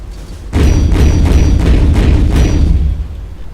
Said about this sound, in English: Very fast firing 75mm gun.